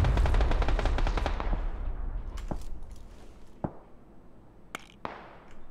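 Rapid automatic gunfire in a PUBG-style team practice match, loud and dense at the start, then thinning into scattered single shots and short bursts that sound farther off.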